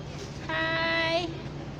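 A cat on a street in Johor Bahru gives one drawn-out, tonal meow lasting under a second, heard close over steady outdoor background noise.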